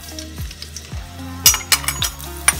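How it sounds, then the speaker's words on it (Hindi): Chopped garlic, ginger and cumin sautéing in hot oil on a medium-high flame, a steady close sizzle broken by several sharp clinks of a spoon against the pan. "इसको थोड़ा सा सौते करेंगे"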